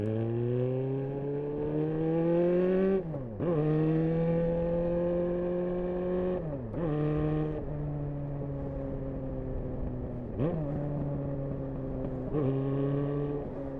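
A Honda CB motorcycle riding along, its engine droning steadily and rising in pitch as it pulls through several gear shifts, each marked by a brief dip before climbing again, loud and close throughout.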